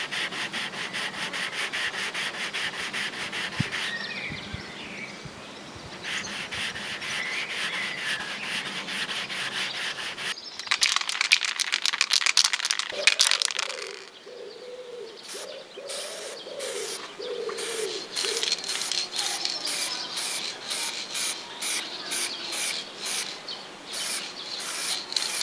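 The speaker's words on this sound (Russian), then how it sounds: "Сейчас берусь шлифовать." Continuous abrasive sanding of a Peugeot 406 car roof, rhythmic strokes against the panel, stopping midway then resuming in shorter rubbing passes, with birds cooing faintly in the background.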